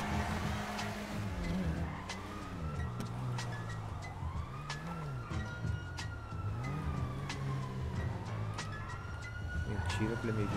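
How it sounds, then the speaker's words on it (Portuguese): Police car siren in GTA V, a rising and falling wail that sweeps up and down several times, loud and continuous over engine and traffic noise, with a voice talking over it. "Já tem uma viatura."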